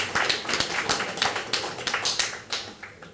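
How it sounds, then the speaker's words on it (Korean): Audience at a Korean political party rally clapping for a mayoral candidate, a fairly sparse patter of individual claps with audible separate hand strikes, moderately close and steady, no talk over it. "박수 한번 쳐주시기 바랍니다."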